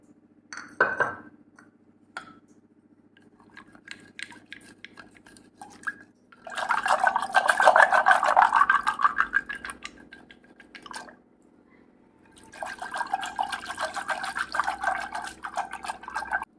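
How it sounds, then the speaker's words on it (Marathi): Liquid sloshing and whisking as spiced buttermilk with water is churned in a vessel, in two sustained bursts with a quiet gap between, preceded by a few clinks. "आणि हे सगळं घुसळून घेऊया"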